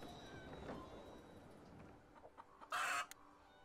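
Clucking from a golden goose in the video game Fabledom, a few soft clucks and a brief louder squawk near the end over quiet background game ambience.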